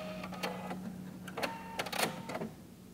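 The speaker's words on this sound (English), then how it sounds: "anytime I sew a partial line into a pattern, into the center of it, I like to go ahead and reverse so that it stay stitches that area" Sewing machine stitching a short line through a paper pattern and reversing, with quick mechanical bursts of needle clatter separated by brief pauses, close and moderately loud.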